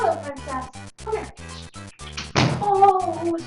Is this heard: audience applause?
no